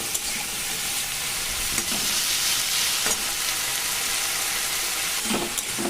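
Chopped onion, garlic and green chilli sizzle and crackle steadily in hot oil in a pan, with occasional stirring scrapes and no talking.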